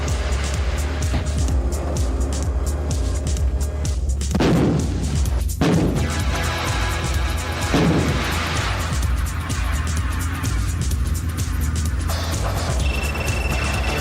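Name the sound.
South African G6 howitzer artillery firing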